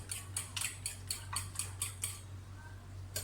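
Eggs are beaten in a bowl for coating vegetable cheese cutlets: about eight quick, evenly spaced clinks of a utensil against the bowl, close and fairly soft, then a pause with one last tap.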